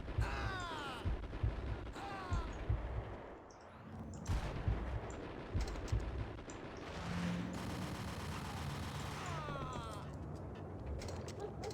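Gunfire and blasts from Max Payne, the shooting game, come as a loud chaotic burst of sharp repeated shots and heavy booms, with a brief lull midway before the barrage resumes.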